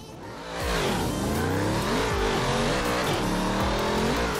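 A car in the Forza Horizon 4 racing game revs hard and climbs through its gears, a loud, dense engine roar with tire squeal that fills the whole clip without speech.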